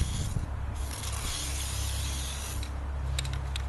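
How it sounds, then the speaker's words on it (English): Eastwood internal frame coating sprays from a nozzle with five small holes, giving a steady hissing rush that runs almost unbroken for several seconds over a low mechanical hum. "with those 5 little holes in the end, it's able to do a wide spray"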